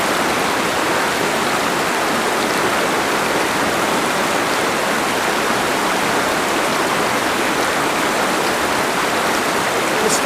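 A river runs through a canyon in a steady, loud rushing wash of water that stays dense and unbroken throughout, close by with no voices.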